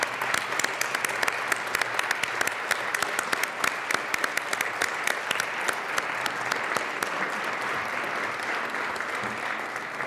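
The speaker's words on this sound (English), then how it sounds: "Let's now give them a round of applause." Applause fills the Colorado House legislative chamber as guests are recognized, a long steady round of clapping from many people with crisp individual claps, easing slightly in the final seconds.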